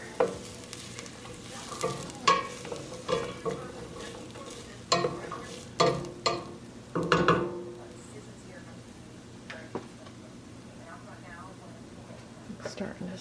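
Vegetables for a chopped-salad-mix soup simmer in a pan, with a run of rhythmic stirring scrapes and a soft bubbling sizzle that later settles to a quieter simmer.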